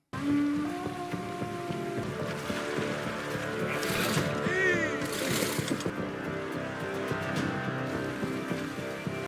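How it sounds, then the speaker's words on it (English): A storm in the Vikings series brings steady rain pattering throughout, with a faint low rumble beneath and voices talking over parts of it. "Separated by the storm."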